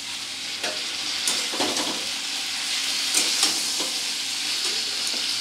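Diced mango and tomato go into a hot pan of oil with boiled potato while cooking a Bengali sour small-fish dish, giving a steady close sizzle broken by several sharp stirring scrapes and spatters.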